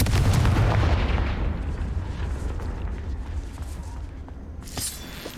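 Confringo blast spell in the Hogwarts Legacy game: a heavy, rumbling explosion that roars loudest at the start and fades into a long, noisy tail, with a brief crackle near the end.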